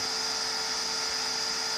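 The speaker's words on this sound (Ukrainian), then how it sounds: "Тепер вентилятор працює так, як потрібно." The fan of a Uralelectro EISA 105 electrical appliance runs with a steady, even whirring hum and a constant high whine, with no voices.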